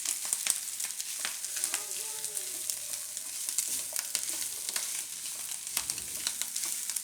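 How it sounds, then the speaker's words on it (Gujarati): Ground wheat roasting in ghee over a low flame for Gujarati wheat kheer, giving a steady soft sizzle with scattered light stirring scrapes and clicks, close by and without voices. "તો થોડીક વાર આ ઘઉંને આપણે શેકી લેવું આમાં ઘીમાં"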